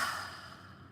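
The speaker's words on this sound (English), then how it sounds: "Exhale it out." A deep exhale during a guided breathing exercise, a single soft breathy rush of air close to the microphone that fades over about a second.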